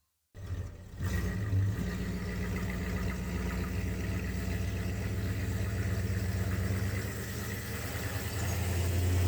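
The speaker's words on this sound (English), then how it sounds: "And there she is, sitting there idling." A 1964 Chrysler engine starts up and settles into a steady, rumbling idle, close and even for several seconds after sitting under a cover for months.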